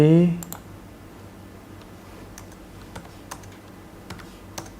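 Computer keyboard keys click in a few sparse, light presses, likely a Ctrl+V paste, after a brief loud burst at the start; a faint room hum fills the background.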